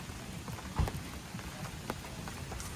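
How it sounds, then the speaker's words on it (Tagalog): Heavy rain near a camp at the Tanay windmills viewpoint, a dense steady hiss of drops on surfaces with a few louder nearby knocks, continuous and close, with no voices. "Biglang lumakas ang ulan at bumaba na yung fog."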